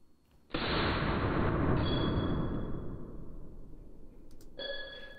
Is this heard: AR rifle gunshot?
yes